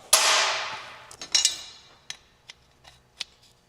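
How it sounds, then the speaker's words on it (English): A pneumatic air hammer with a new clamping system shapes sheet metal for a 1939 Lincoln Zephyr, starting with a loud ringing strike that decays, then a few sharper metallic taps spaced apart and fading. "there it is, version 2 of the air hammer and this new clamping system"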